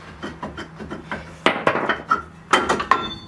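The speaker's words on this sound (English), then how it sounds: "Tap the back of the rotor, not the dust shield." A sledgehammer tapping the back of a brake rotor on a Jeep JK, a string of close metallic knocks and clanks with a few louder ringing strikes in quick, uneven rhythm.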